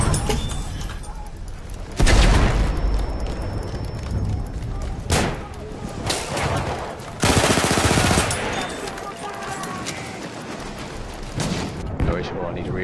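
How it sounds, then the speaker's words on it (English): Rapid pistol fire in Battlefield 1 crackles in quick bursts, with several loud clusters of shots separated by quieter stretches of game ambience and a player talking over the action. "Tend to use pistols that allow a higher rate of fire, so I can spam the trigger."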